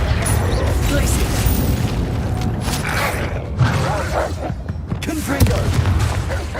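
Glacius freezing spell in Hogwarts Legacy amid busy combat, creaking, crackling magical impacts and thumps layered over constant game noise, with a shouted incantation.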